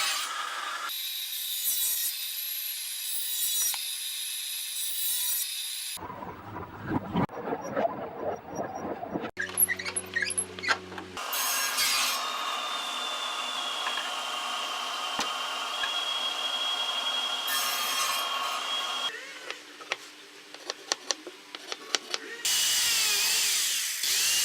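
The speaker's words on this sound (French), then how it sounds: "il va falloir couper les pieds" Power tool cutting through wooden table legs in a workshop, loud sustained bursts of whining and grinding with short pauses between cuts, no talking.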